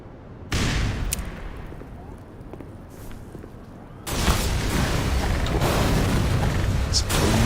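Grenade explosions in the Black Mesa video game, heard as a sharp burst followed by a rumbling din of booms and gunfire-like blasts that grows louder and denser partway through, with no talking.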